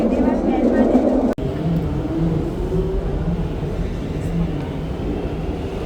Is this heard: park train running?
yes